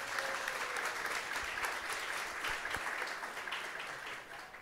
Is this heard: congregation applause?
yes